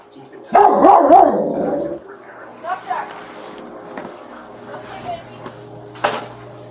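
A dog barks loudly and close for a couple of seconds, then gives a few fainter yips, with a voice talking over and between the barks at a residence during a police visit.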